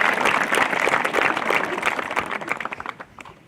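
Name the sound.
audience applauding student speakers at commencement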